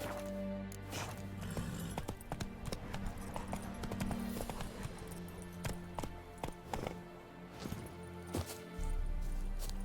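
Hooves of the horse Roach clip-clop in The Witcher 3 video game, a quiet, irregular string of hoof taps over a low ambient bed.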